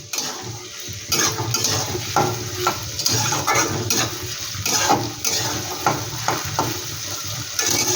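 Garlic and green chili fry in oil for a chicken pickle, a close sizzle broken by repeated stirring scrapes of a spatula against the pan, with no talking.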